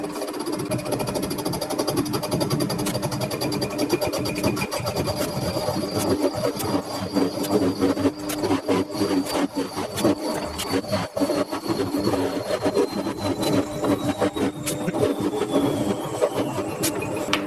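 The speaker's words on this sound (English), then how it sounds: "let's part this damn thing off" A metal lathe parts off a steel component for a model steam engine, giving a continuous dense scraping and cutting noise with a faint rising whine, steady and close throughout with no talking.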